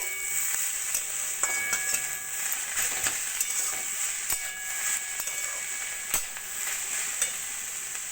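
Radish greens frying over a low flame in a pan, with a steady sizzle and hiss and intermittent scraping stirs, close and continuous without talk.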